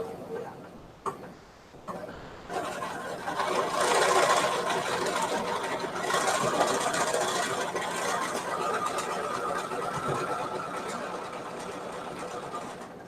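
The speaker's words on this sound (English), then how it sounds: "now we're going to sew that along the seam" A sewing machine stitches fabric along a pinned seam, a steady continuous mechanical whir running close and fairly loud for most of the stretch after a brief start.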